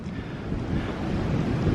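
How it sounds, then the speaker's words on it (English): Water from a small spring running downhill outdoors, heard as a steady, dense broadband rush with some wind-like buffeting, constant and close throughout. "there's another bit of a spring behind me going down"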